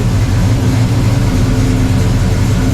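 A Chevrolet squarebody truck engine idles smoothly and loudly close by, a steady low rumble with an even pulse and no voices.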